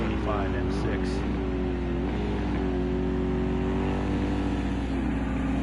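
A BMW USA number 25 M6 race car in a racing video game's Daytona Continental endurance race holds a steady, droning engine tone with slight pitch shifts, continuous and fairly loud under faint background noise.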